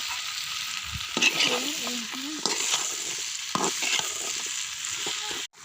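Spiced food with salt and turmeric frying in a pan while being stirred: a soft steady sizzle broken by scraping spoon strokes and a few clinks, close, ending in a sharp knock, with no talk.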